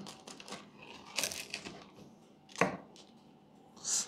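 A 4F pizza is sliced with a cutter or knife, giving a few close, crisp crunching strokes with brief pauses between them and a light rustle at the end.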